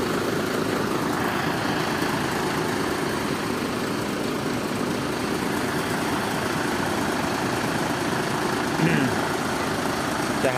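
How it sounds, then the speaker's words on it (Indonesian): Ten buses idle together at a bus terminal while their engines warm up, making a continuous low, even rumble that stays steady throughout. "Ini lagi dipanisin semua mesinnya."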